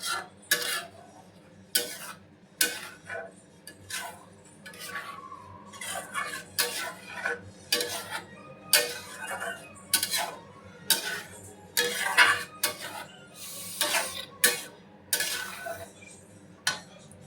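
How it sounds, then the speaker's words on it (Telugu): A spoon scrapes and clinks against a pan while biryani gravy paste is stirred together with water, giving repeated sharp metallic taps in an uneven rhythm, close up, with no voices. "ఈ వాటర్ అనేది అంతా మిక్స్ అయ్యేంత వరకు మిక్స్ చేసుకోవాలి."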